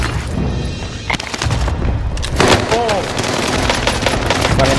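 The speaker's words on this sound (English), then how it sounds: "cluster strike arriving." Cluster strike explosions in a video game go off as a rapid series of loud, sharp bursts and booms, close and dense, with voices talking over the barrage.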